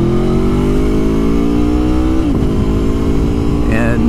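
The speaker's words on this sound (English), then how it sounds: "So today I'm riding the Aprilia, the Big 8." An Aprilia Tuono motorcycle, a V4 bike, revs loud and close with a steady engine drone rising in pitch before a gear shift and another climb.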